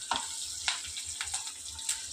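Curry leaves and turmeric fry in a pan with a quiet, steady hiss, broken by a few soft stirring clicks and spatters.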